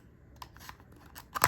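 Quiet, sharp snips come as parts are cut from the plastic runner of a Jurassic World Beyblade X dual starter set, with a few scattered small clicks and a louder final cut near the end.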